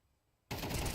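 A sudden, loud burst of sustained automatic gunfire in a tactical shooter game, spraying continuously after a quiet moment, with no voices over it.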